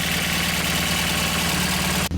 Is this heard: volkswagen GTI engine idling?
yes